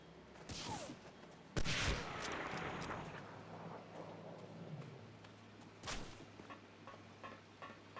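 Gunfire in a video game booms in a few heavy bursts with lingering echoing rumble between them, fairly distant and low in level, with no talking.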